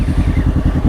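A motorcycle engine idles close by, a loud, steady low rumble with regular rapid pulsing.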